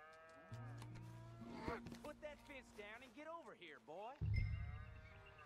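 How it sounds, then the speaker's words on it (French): A bull lows repeatedly on a farm in Red Dead Redemption 2, long drawn-out moos rising and falling, with someone talking over and between the calls. "Ah non, c'est un taureau."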